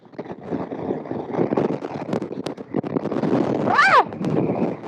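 Strong wind gusts buffet a microphone on a mountain road at Paso Los Libertadores between Argentina and Chile. They roar in uneven bursts beneath excited talk, a brief whistling tone rising and falling near the end.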